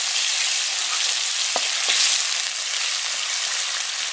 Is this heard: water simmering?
yes